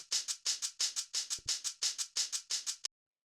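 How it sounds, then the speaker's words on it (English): A layered percussion loop of hi-hats and a shaker ticks in a steady, even pattern of bright, crisp hits, close and dry, ending abruptly. "the next thing we have here are these hi-hats"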